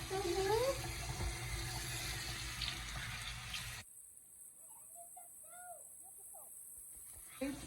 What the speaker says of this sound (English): It's is washing her hands again